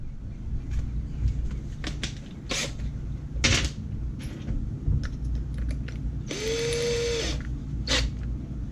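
An electric drill bores a hole in aluminum for rally-style lights on a 1979 Fiat Spider 124, giving a short rising whine with scattered clicks and taps around it.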